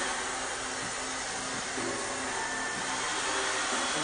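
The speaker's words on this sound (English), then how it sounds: "We want to try to dry this as well. We have the hair dryer." A hair dryer blows steadily to dry acrylic paint during a live painting lesson, a constant broadband whoosh with a low motor hum, fairly loud and unbroken throughout with no talking.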